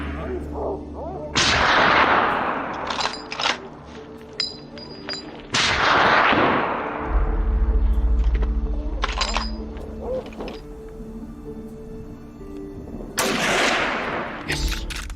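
Gunfire from hunters shooting at wild boars in mountain brush: several loud, sharp shots spaced apart, each with a long echoing tail, and a final burst near the end.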